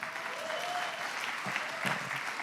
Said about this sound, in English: Let's give him a thunderous round of applause.